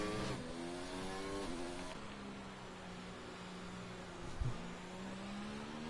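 Formula 1 race car engine in a racing video game at the German Grand Prix, droning steadily on a slow lap with rising and falling revs and a brief louder burst near the end, heard alone.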